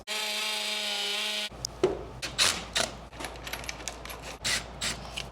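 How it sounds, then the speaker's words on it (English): A power drill whines steadily for about a second boring a small pilot hole in wood, then stops, followed by scattered clatters, taps and handling noises nearby. "making me a little quick little pre-drill hole"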